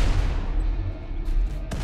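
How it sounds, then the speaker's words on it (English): Plasma gun fire in the video game RimWorld, a loud continuous roar of booming blasts lasting the whole moment with no voices over it. "here comes the plasma gun"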